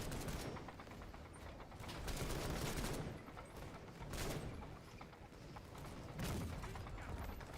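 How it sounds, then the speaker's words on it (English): Repeated booming bursts of cannon and gunfire in a video game tank battle, heavy blasts recurring every couple of seconds over a constant rumbling din of combat. "I swear there's cannons going everywhere."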